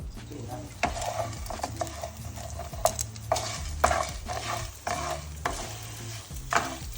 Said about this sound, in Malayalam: കുറച്ച് എണ്ണ ഒഴിച്ചിട്ട് വറക്കും,